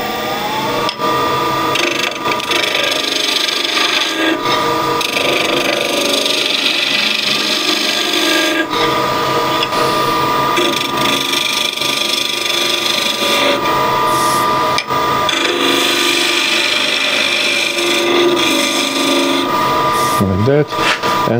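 Skew chisel cutting a wooden box on a lathe, a continuous scraping, rasping hiss of wood being shaped with brief breaks where the cut pauses, close and loud.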